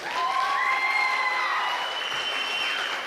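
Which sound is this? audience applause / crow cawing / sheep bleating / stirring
audience applause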